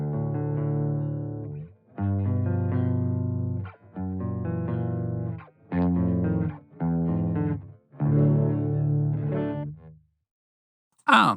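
An electric guitar played through a Mr Hector amp simulator with the brightness switch engaged rings out in six distinct strummed chords or phrases separated by short gaps, bright and sustained, with a brief burst at the very end.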